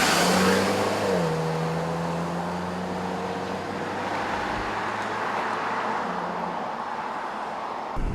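Interior of a 2014 compact SUV on the road during a test drive, with a steady engine drone rising as it accelerates, broad road and tire rumble throughout, and no talking.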